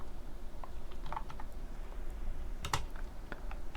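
Rapid clicking of someone typing code on a computer keyboard, steady irregular keystrokes with a short burst of louder clacks near the middle, close and alone with no talking.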